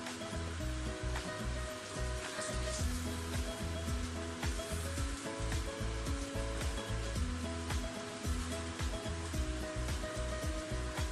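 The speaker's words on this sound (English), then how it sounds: "We let it simmer for a while." Spicy Korean bulgogi pork simmering in oil in a pan, a dense, continuous sizzle and bubbling hiss that stays loud and even throughout, with no talking.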